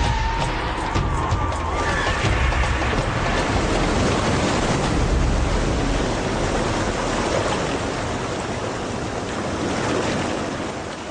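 Broad, steady roar of the Colorado River rushing through its canyon at the foot of the cliffs, loud and continuous throughout, with wind buffeting the microphone.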